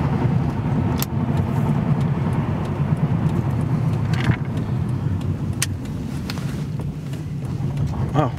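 A 1999 Dodge Intrepid car drives and turns around, a steady low road and engine rumble running throughout at close range with a few light knocks and clicks, no talk heard.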